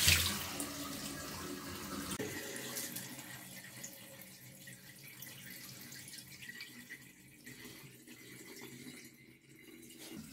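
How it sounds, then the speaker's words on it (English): Water draining out of the tank of a Parkside PWD 30 B1 wet and dry vacuum cleaner, a steady running, splashing flow like a tap, loud at first then continuing evenly without talk. "you can drain it from this tank"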